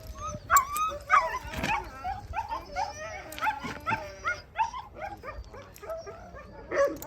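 Many sled dogs bark, yip and whine over each other in an excited, continuous chorus, close by before harnessing, with some human voices mixed in.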